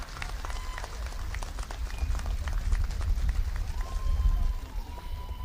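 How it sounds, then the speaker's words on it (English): A crowd at an outdoor political rally in Shillong applauds steadily. Dense, crackling clapping mixes with a low rumble of noise throughout, and a few faint tones rise above it. "I request everybody to kindly clap."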